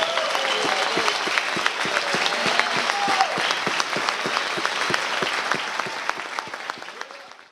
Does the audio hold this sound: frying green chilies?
no